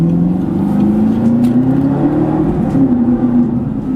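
Engine of a cheap, high-mileage supercar revving hard and loud, a sustained rising and falling roar heard from close by while driving, with no talk over it.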